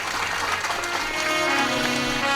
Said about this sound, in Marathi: टाळी वाजून स्वागत करा त्यांचं एकदा सगळ्यांनी